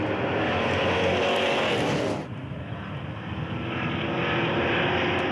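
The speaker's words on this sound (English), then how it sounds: "At the start, Goupy goes round Gandon on the outside in the Sablier S's." NASCAR Euro race cars racing at the Dijon circuit: a loud, continuous roar of engines that eases slightly partway through and then builds again, with no talking.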